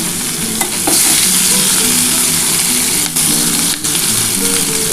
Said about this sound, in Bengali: এই তেলের মধ্যে এবার আমি কিন্তু পেঁয়াজগুলো দিয়ে দিচ্ছি।